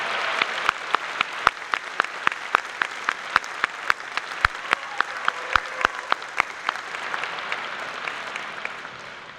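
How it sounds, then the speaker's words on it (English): Audience applause fills a high school graduation ceremony at Ross High School, a steady wash of clapping with sharp individual claps popping out near and far, sustained throughout without talk. "Please, a round of applause again for Mrs."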